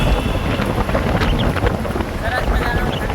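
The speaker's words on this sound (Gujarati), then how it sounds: "સરસ મજાનો ઠંડો પવન આવે છે જોઈ રહ્યા છો" Cool wind gusting through a long tunnel beside a large body of water, a steady loud rush with microphone buffeting throughout, no speech.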